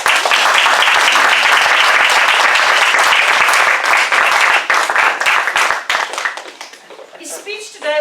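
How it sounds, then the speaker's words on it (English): An audience at a meeting bursts into loud, dense applause that holds steady for several seconds, then thins out and fades as a few voices come through near the end. "So we've got to give them a round of applause."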